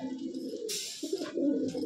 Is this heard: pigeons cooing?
yes